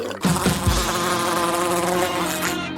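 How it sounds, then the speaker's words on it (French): A bee buzzes steadily and close up in a kitchen, a continuous nearby drone that holds for about three seconds with no talk over it. "Il y a une abeille?"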